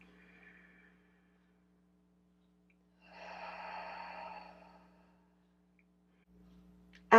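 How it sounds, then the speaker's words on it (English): One slow, audible exhale during a resistance band Pilates workout, soft and close, with faint breath before it, near-silence around it, and a sudden sharp sound at the very end. "keep that rhythmic breathing with the diaphragm"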